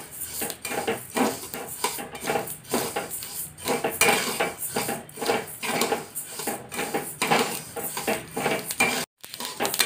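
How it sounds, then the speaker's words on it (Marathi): Flax seeds dry roasted in a pan, stirred with a utensil that scrapes and clinks against the metal in quick, continuous strokes, close and loud, with a brief pause near the end and no speech. "चांगले 5 मिनिटं जवस भाजून घेऊया"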